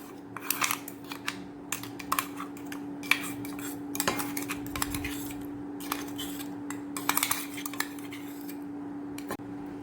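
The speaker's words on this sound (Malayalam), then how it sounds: "ഇത് നമുക്കൊരു പാത്രത്തിലേക്ക് മാറ്റാവുന്നതാണ്." Ground masala paste for Kochi-style fish fry being scraped and tapped from a grinder jar into a bowl, a steady run of close metallic clinks and scrapes over a low constant hum, with no talk.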